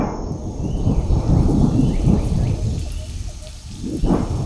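Heavy rain pours down steadily during a thunderstorm, with a dense hiss and deep rumbling thunder swelling underneath. The sound is loud and continuous throughout.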